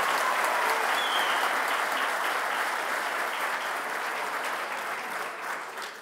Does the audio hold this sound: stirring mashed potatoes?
no